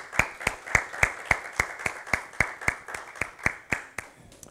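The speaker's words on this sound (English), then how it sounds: "Let's give God a hand clap of praise." Church congregation clapping hands in praise, about fifteen sharp unison claps at a steady rhythm, moderately close, with no voices over them.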